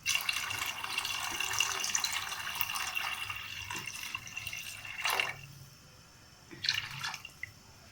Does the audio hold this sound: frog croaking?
no